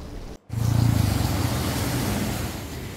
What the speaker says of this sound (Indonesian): terpantau arus lalu lintas pada puncak malam Natal di ruas jalan lintas Sumatera ramai lancar